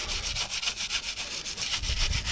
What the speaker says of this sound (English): what if I rub this as well, like these pipes and stuff?